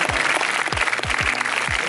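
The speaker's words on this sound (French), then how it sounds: "on peut encore les applaudir" A festival audience applauding after film screenings, a steady burst of clapping with a few louder low thumps, close and continuous with no talk.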